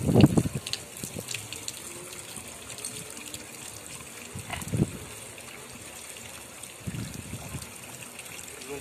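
Water is poured or drained from a bandog puppy's tub, making bursts of splashing and trickling separated by quieter dribbling. Faint movement can be heard in between.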